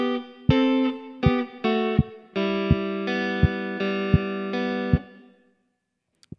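Plucked guitar notes and chords from a song ring out in a steady, deliberate rhythm, with a few louder strums, then the last chord fades to silence.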